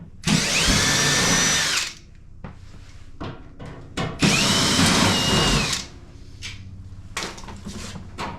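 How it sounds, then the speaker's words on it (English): A power drill drilling out spot welds on an MGB GT whines loudly in two long bursts with a rising, then falling pitch, separated by quieter clunks and knocks of metal work. "start drilling for spot welds everywhere"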